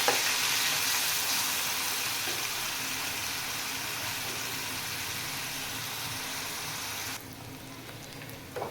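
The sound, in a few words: ground onion frying in a pan until browned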